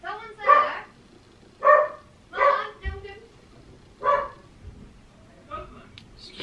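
A dog barks several times in separate short bursts, fairly close and moderately loud, with pauses of quiet between.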